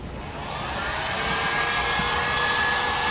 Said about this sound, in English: take my trusty heat gun, pick this up over at Harbor Freight, turn it up full blast, and melt the plastic down so that it shrinks